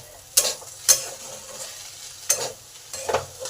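Okra and potato pieces frying in a pan under a soft continuous sizzle, with four sharp scraping stirs of a spatula spaced unevenly, close and clear, no talking.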